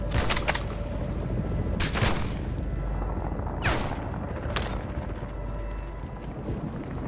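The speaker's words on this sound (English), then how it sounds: "Assault rifle here." Rapid bursts of assault rifle gunfire in a Call of Duty match, loud and close, with several sharp volleys rising over a constant rumble of battle. No talk.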